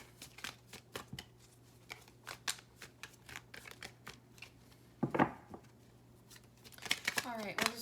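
Tarot cards riffle and snap in a run of quick crisp shuffles, close and fairly quiet, ending in a longer burst of cards being pulled and slid out; a voice talks briefly underneath.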